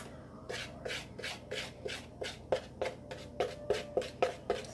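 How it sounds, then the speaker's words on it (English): A rubber spatula folds flour into banana muffin batter in a bowl, making a steady rhythm of soft, close scraping strokes, roughly two or three per second. "fold in flour mix, and then mix all of it together until smooth."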